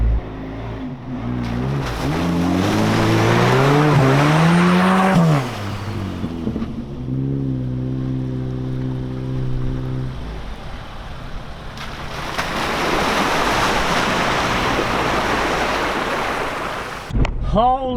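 An off-road vehicle in Central Otago's Old Woman Range ploughs through a thick muddy bog hole, its engine revving and labouring under load before easing, then a long wash of churning, splashing mud and water, loud and close throughout.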